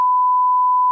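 A single steady electronic beep, loud and clean, holding one pitch for about a second with nothing else around it.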